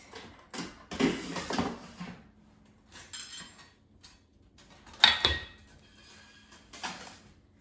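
Baked oatmeal in its dish being taken out of an air fryer, with clattering basket and dish clinks, a sharp metallic knock partway through, and a few lighter taps, close and without talk.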